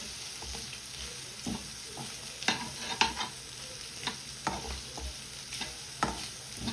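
Grated coconut is stirred into frying bitter gourd in a Jaffna-style dish, with repeated spatula scrapes and knocks over a soft, continuous sizzle from the pan.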